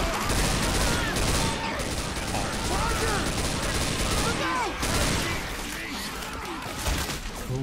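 Gunfire rattles almost nonstop in Left 4 Dead 2 versus play, dense rapid shots and bursts filling the whole stretch, loud and close, with game sounds layered underneath.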